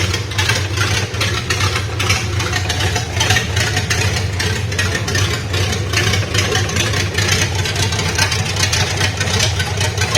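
A 1971 Series 1 Datsun 240Z engine idles steadily at its first cold startup after more than twenty years, with a close, even low rumble and no revving.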